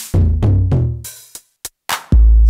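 Punchy electronic drum machine hits from a distorted 909-style kit with a gritty edge: three booming kicks, a few sharp snare and hat snaps, then another heavy kick.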